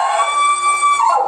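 Dog howling in a single sustained, loud, wavering tone close by at a family gathering, heard alone with no talk.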